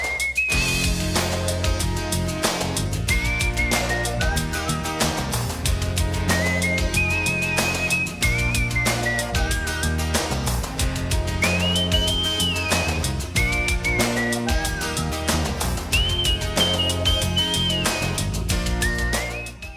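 A melodic whistled tune carries over a full band song, loud and steady throughout, the whistle rising and falling in bright sustained phrases.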